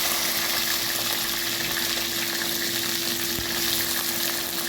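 Onions, curry leaves and mustard seeds frying in oil for a fish curry, a constant hissing sizzle under a faint steady hum, close and unbroken, with one soft knock.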